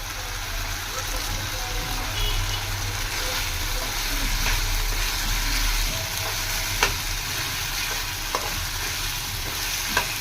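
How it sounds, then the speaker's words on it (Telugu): Village-style spicy chicken fry crackling in plenty of oil in a pan, a dense continuous sizzle with occasional sharp pops and stirring scrapes, close and steady throughout with no voices. "చూడండి, ఈ విధంగా బాగా ఫ్రై చేసుకోవాలా."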